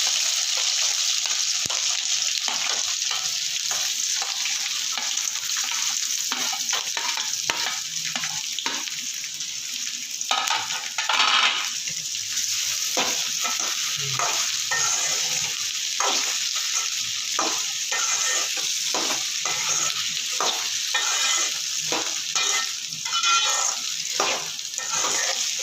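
Raw mango pieces and curry leaves sauté in hot oil in a pan, a steady loud sizzle with repeated scraping and stirring strokes of a spoon running throughout.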